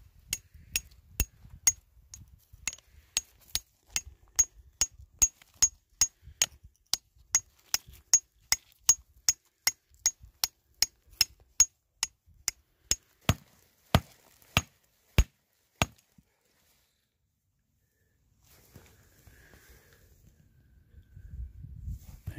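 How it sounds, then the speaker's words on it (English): A hammer chips small pieces off a mineralized gold-bearing quartz vein surrounded by sulfide veins, striking about thirty sharp, ringing blows at an even pace, close and loud. The blows stop and a quiet rustle follows. "So we're just chipping little pieces off here."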